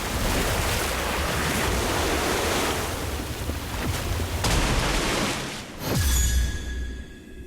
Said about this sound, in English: Orb of water!